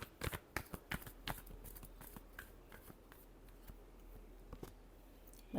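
Tarot cards are shuffled in quick, light riffling flicks, soft and close, repeating irregularly over a quiet background.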